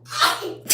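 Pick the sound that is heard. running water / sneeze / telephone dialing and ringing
sneeze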